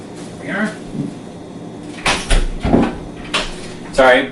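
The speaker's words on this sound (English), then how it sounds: "I was opening the closet door there like crazy." A closet door is yanked open and shut several times in quick succession, producing sharp knocks and rattling thuds close by, with faint voice sounds early on.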